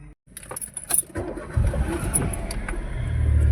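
A Maruti WagonR's keys jangle, then the engine cranks and catches, settling into a steady idle that grows slightly louder toward the end.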